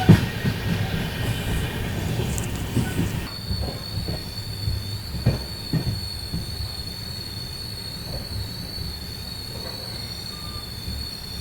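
The 12786 Ashokapuram–Kacheguda superfast express pulls into Mahbubnagar railway station, its wheels squealing loudly against the rails for the first few seconds before the noise settles into a steady hum with occasional clanks.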